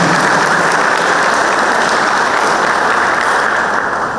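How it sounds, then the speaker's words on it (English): Thick, steady applause from an audience at a university World Philosophy Day event, loud and unbroken from start to finish with no voices. "A loud applause."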